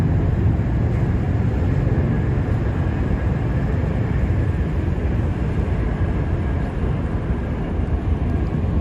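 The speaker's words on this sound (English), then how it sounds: "you hear the ospreys. The ospreys are" V-22 Osprey aircraft flying low overhead above Manhattan, a loud, unbroken roar of rotor and engine noise filling the air and holding steady without letup.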